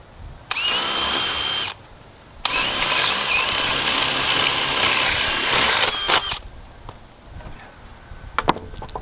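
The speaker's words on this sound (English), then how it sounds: "And drill it out." A power drill bores through a very hard chunk of lumber in two loud, close bursts, a short one and then a longer steady whine, followed by a few faint clicks and knocks.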